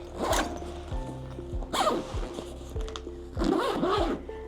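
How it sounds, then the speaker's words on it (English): A zipper is pulled closed on a MaxGo Roamer camera case in several quick, close strokes. The zipping comes in short bursts with pauses between them, against a faint low background hum. "Put it back in, zip it up."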